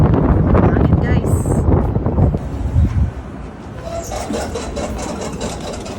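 Wind buffeting a microphone outdoors during a roadtrip stop, a loud rumbling gust that dominates the first three seconds and then eases to a steadier, quieter rush under faint background noise.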